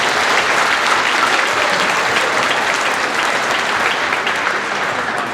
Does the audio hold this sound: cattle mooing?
no